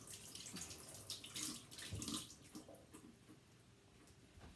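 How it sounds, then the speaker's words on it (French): Water runs from a tap while hands are washed at a sink, a soft continuous splashing that fades slightly toward the end, with no talking. "Alors, je vais me laver les mains."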